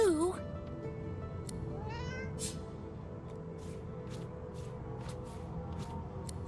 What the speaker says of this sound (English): The cat begins to purr and rub itself on your ankles.